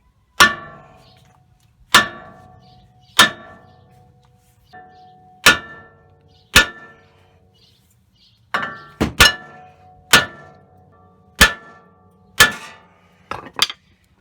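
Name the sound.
hammer whacking Toyota Tundra brake rotor to remove it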